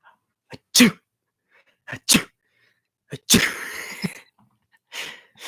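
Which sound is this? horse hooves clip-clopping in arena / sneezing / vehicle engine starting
sneezing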